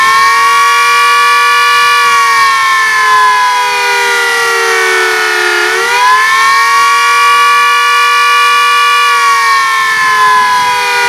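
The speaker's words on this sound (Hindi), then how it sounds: "ब्लैकआउट और हमले के दौरान बजने वाले सायरन को बजाकर" A loud air raid warning siren, used for blackouts and attacks in India, wails continuously, its steady tone dipping briefly midway before rising again, blaring close and alone.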